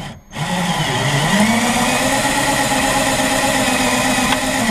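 An electric motor drives the glass roof panel of a Nissan Maxima, a steady, loud mechanical whine and hum that starts after a brief pause and runs evenly without stopping.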